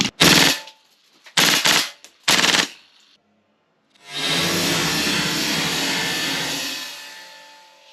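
A Tokyo Marui MWS airsoft rifle fires three short, sharp full-auto bursts up close, then one long sustained burst after a pause, loud against otherwise silent surroundings.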